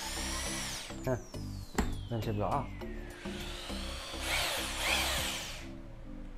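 A Bosch drill in normal drilling mode whirs in short bursts, then builds to a louder, sustained high-pitched grind near the end, with someone talking over it.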